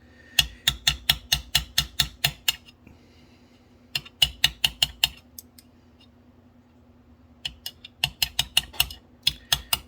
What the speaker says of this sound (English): we'll see if we can tap, tap that guy right off